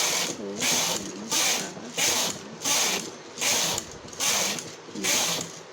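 A hand-operated knitting machine carriage is pushed back and forth along the needle bed while knitting a baby romper, giving six regular rasping, clattering passes about a second apart, close and fairly loud.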